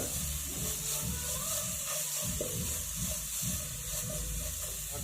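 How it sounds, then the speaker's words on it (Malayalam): Mixture for paal puttu gently cooking in a pan on the stove, giving a soft, continuous sizzle and steamy hiss with faint stirring, and no talk. "ഇത് ചെറുതായിട്ടൊന്ന് വേവിച്ചെടുക്കുക പോവാണ് ചെയ്യുന്നത്."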